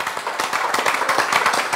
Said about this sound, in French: Est-ce qu'on peut applaudir pour Dieu?